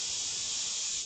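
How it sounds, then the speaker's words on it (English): Fizzing hiss of an intercepted missile high over a city, a steady bright sizzling rush that holds evenly for about a second before cutting off, with no voices. "Sounded like a fizzing noise, then an explosion."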